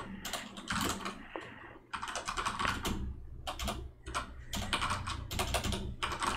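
Rapid, steady typing on a computer keyboard at a terminal, close and fairly loud, with dense clusters of key clicks broken by a short pause or two.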